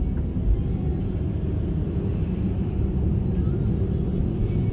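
A car accelerating during a driving exam gives a low, steady engine rumble from inside the cabin, continuous and moderately loud with no talking.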